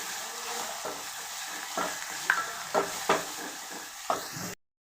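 A ground paste of tomato, onion and coconut is sautéed in a pan, a low sizzle punctuated by several distinct scraping stirs of a spatula, ending abruptly in silence.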